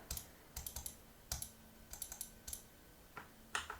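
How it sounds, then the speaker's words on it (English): Computer keyboard shortcuts for copy and paste, Control C and Control V, tapped in quick clusters of close, crisp clicks, several short bursts over a soft steady background hum. "Control C to copy, Control V to paste"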